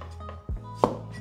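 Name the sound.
chopping radish with the Chinese rolling knife method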